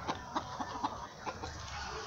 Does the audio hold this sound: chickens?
yes